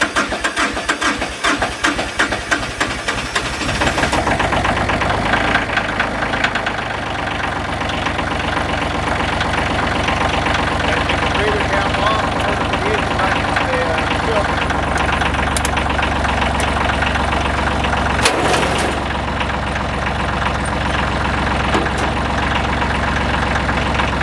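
An old tractor engine cranks with rapid uneven chugging, catches and settles into a loud, steady knocking idle that runs on continuously, close by, with a brief clunk near the end.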